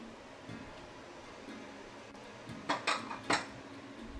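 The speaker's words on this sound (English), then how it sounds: "So, let me just grab some plates." Plates and dishes clatter in a kitchen as they are grabbed and set out, a few soft knocks early followed by a cluster of sharper ceramic clinks near the end, close and moderately loud.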